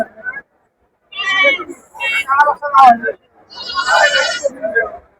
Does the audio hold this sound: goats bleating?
yes